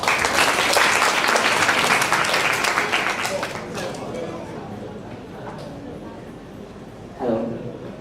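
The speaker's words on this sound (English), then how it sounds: "please give a round of applause to Mr." An audience at a school English Day speech contest gives a loud, sustained round of clapping that fades out after about four seconds, followed by a quieter room and a speaker's voice.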